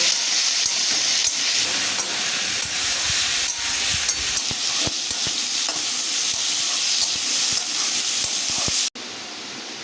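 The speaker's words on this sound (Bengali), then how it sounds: "এবার আলুটাকে আমি খুব ভালো করে ভেজে নেব।" Potatoes seasoned with salt and a little turmeric fry in a pan, a dense continuous sizzle with frequent stirring clicks and scrapes up close, cutting off abruptly near the end.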